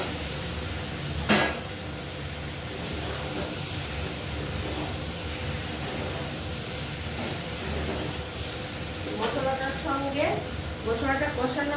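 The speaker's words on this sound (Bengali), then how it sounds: "মশলাটা ভালো করে কষিয়ে মশলাটার সঙ্গে এগুলিও দিয়ে দিচ্ছি কষানোর জন্য।" Spice paste fries in a pan with potato, pointed gourd and soybean pieces, giving a soft continuous sizzle broken by a few sharp scrapes and clinks of a stirring spoon.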